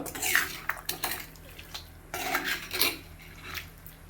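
A spoon works through a masala mixture in a cooking pot, making close, quiet, irregular scrapes and metallic clinks in short bursts with small pauses between them.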